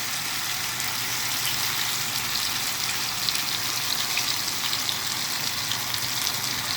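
Okra frying in a pan with cumin and dried chili, a steady close hiss and sizzle of oil holding evenly throughout with no one speaking.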